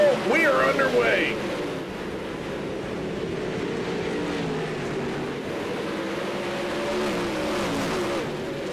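Racing sim sprint cars at Lucas Oil Speedway rev and roar as the field gets underway, a loud burst at first settling into a steady droning engine wash while a commentator talks over it.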